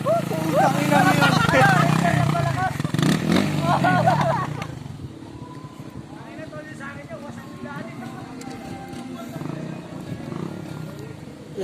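A Suzuki Raider motorcycle engine runs loud and close near a river with hanging bridges, a steady rumble under overlapping voices that eases after a few seconds into quieter engine noise and chatter.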